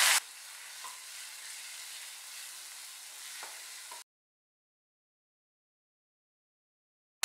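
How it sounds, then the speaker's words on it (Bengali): Potato cubes and chopped onion fry in a pan, giving a bright, even sizzle with a couple of soft stirring clicks, lasting about four seconds before cutting abruptly to silence. "পেঁয়াজ কুচিটা ভাজতে ভাজতেই আলুটা দিয়ে দিলাম। আলুটা দিয়ে কিছুক্ষণ নাড়াচাড়া করব।"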